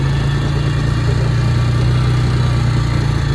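A heavy tractor engine runs steadily nearby with a low, constant throbbing hum and no voices.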